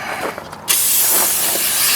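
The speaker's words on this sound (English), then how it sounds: "spray some brake cleaner on there" An aerosol can of brake cleaner is sprayed onto the rear brakes of a Silverado pickup truck. After a short quiet lead-in, a loud, close, continuous hiss starts suddenly and keeps going to the end.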